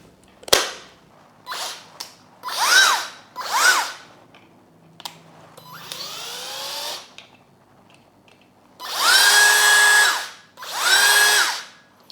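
A Dongcheng DCPL208 cordless impact driver runs in a series of short bursts. Several brief trigger pulls rev up and whine, followed by two longer, louder runs. Each is close and stands alone with quiet gaps between.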